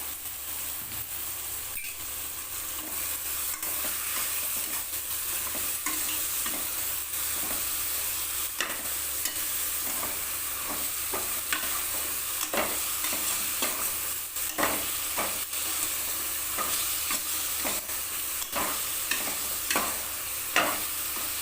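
Washed soya chunks stirred into a sautéed mixture in a pan, a steady low sizzle broken by frequent sharp spatula scrapes and clicks, close up and quiet, with no voices.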